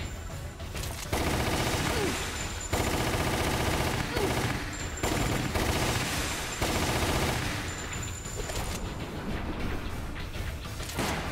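Sustained gunfire in the light-gun shooter Resident Evil: The Umbrella Chronicles, dense bursts of shots running nearly the whole time over game music, with brief gaps between volleys and faint voices mixed in.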